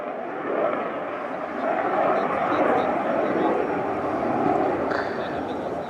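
A Belgian Air Component F-16 fighter jet accelerates toward a high-speed pass at an airshow, a steady broad jet roar held at a constant level throughout, with a commentator talking over it.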